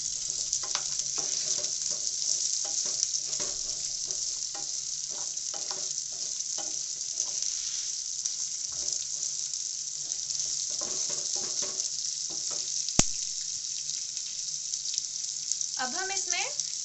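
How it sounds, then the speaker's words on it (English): Garlic and ginger sizzle steadily in a hot pan for a paneer butter masala, with repeated scraping stir strokes over the constant frying hiss and a brief sharp clink near the end. "Now to this we add in the garlic and ginger."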